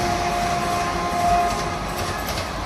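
A train rolls past close by with a loud, steady rumble of wheels on rails and a faint whining tone running through it.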